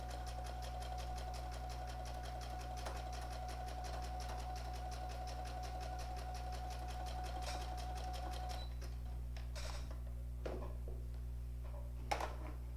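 Sewing machine zigzag stitching around a felt heart, a steady fast rhythmic whir running for several seconds before slowing into a few scattered clicks and taps.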